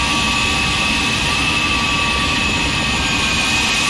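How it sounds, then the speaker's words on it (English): Falcon 50 business jet engines in the X-Plane 11 flight simulator, a loud, steady roaring whine with a high tonal hum that holds constant throughout, with no talking. "I'll just let you listen to our arrival here of the sounds of the aircraft"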